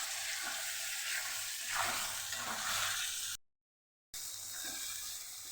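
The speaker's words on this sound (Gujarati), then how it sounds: "બધું સરસ સાતળી લઈશું આપણે।" Spice masala of red chilli powder, turmeric, coriander-cumin powder and salt sautéing with tomatoes in a pan gives a steady, close sizzle with soft stirring scrapes. A brief dropout interrupts it before the frying hiss resumes.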